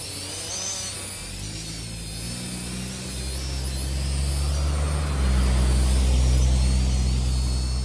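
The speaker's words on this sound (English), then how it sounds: "Look at it here while this car goes by on us." At night, a car passes nearby while a small drone hovers overhead, its thin whine running throughout. A low engine rumble swells and deepens over several seconds, growing loudest near the end.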